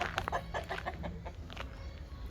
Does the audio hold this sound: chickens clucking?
yes